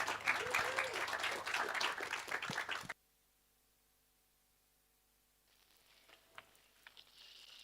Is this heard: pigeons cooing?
no